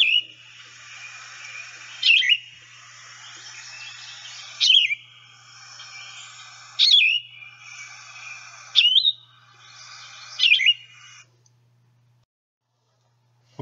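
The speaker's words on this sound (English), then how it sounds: "That's how you achieve the song of the yellow-throated vireo" Yellow-throated vireo singing: five slow, burry, slurred phrases spaced about two seconds apart, clear and close against a quiet background, ending in silence.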